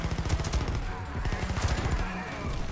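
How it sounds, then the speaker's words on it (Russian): Rapid automatic gunfire from a suppressed-sounding Taurus CT9 G2 rifle in the shooter game Warface, continuous rattling bursts with short pauses, fairly muffled and even in level. "Это не глушитель, а просто делает звуки выстрела стрельбы тише."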